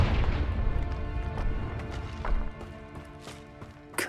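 A Confringo fire spell in Hogwarts Legacy, a booming blast at the start over a steady game soundtrack, then a sharp second impact near the end.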